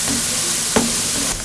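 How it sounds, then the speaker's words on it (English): Steady broadband sizzling of garlic frying in oil in a pan on a stove, with a brief clink of stirring near the middle. "she put the garlic and oil into the frying pan on the stove"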